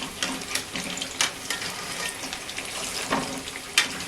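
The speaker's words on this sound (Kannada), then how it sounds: "ಒಂದು 5 ನಿಮಿಷ ಫ್ರೈ ಮಾಡ್ಕೊಳ್ಳಿ ಈ ಥರನೇ." Chicken pieces for chicken chilli fry in a pan with a steady crackling sizzle, broken by occasional sharper pops and spatters, fairly close and continuous with no voices.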